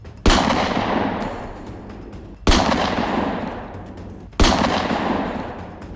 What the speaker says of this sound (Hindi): तभी गोडसे ने अपने हाथ में छिपाई हुई बेरेटा पिस्टल निकाली और एक के बाद एक गांधी जी के ऊपर 3 गोलियां चलाई।